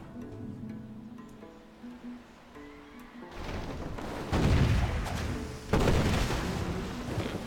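Naval combat in Civilization 5 as a battleship is sunk: quiet melodic game music, then a run of heavy booming blasts, with two louder impacts near the end.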